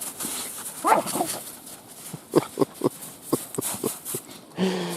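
Several dogs play together, letting out short, sharp barks in a quick burst with a few scattered yips, fairly close and moderately loud, and a voice comes through briefly near the end.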